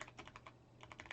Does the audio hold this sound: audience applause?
no